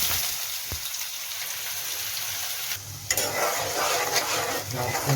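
Onions and cumin seeds fry in hot oil in a pan, a steady hiss that swells after a brief clatter midway, with occasional stirring scrapes; no voices.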